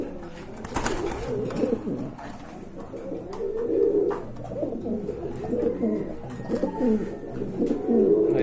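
Fancy pigeons cooing at a pigeon farm, several birds making low, rolling coos close by and almost continuously, with someone speaking briefly over them.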